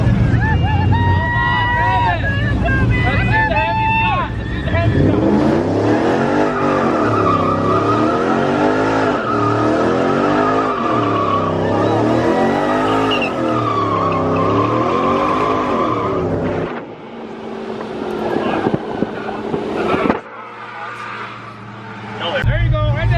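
A car does a tire burnout, the engine revving hard in a loud wavering drone with squealing tires, then cutting out abruptly. People talk and chatter over it.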